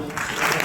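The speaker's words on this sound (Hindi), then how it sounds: "तालियां बजाओ।" Audience clapping at a motivational talk, a short, dense burst of many hands applauding together, close and continuous.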